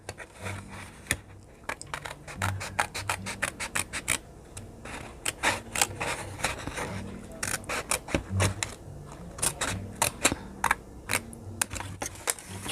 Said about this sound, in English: Trying to cut straight here.